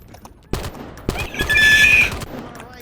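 Conventional gunfire in a game firefight, bursts of rapid shots cracking close and loud, with a shrill whinny-like cry rising in the middle.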